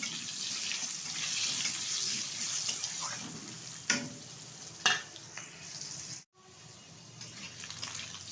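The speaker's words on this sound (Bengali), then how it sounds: "আলুটা একটু ভালোভাবে ভেজে নেব।" Washed potato pieces fry in oil with whole cumin seeds, producing a steady, moderate hiss with a few sharp clinks and stirring knocks, briefly cutting out before the sizzle resumes.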